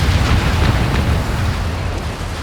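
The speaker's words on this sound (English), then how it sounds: "drop a carpet bomb" Carpet bomb explosions in a WWII strategy video game, heard as a continuous loud rumbling barrage of overlapping booms that stays heavy throughout and eases off only slightly toward the end.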